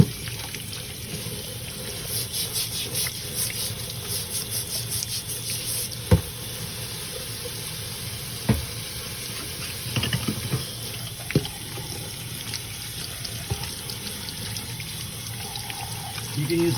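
Running water streams steadily over a filter sleeve as debris is rinsed off, a continuous close hiss with a few soft knocks and splashes, no talking.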